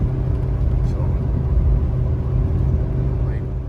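A 2019 Ford F-450 Limited pickup engine labors steadily while towing 34,000 lbs, a loud, continuous low rumble that holds even throughout.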